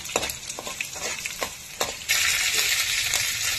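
Garlic and dried red chilies frying in hot oil for a tempering, with a few sharp stirring clatters and then a sudden louder surge of sizzling, close and alone.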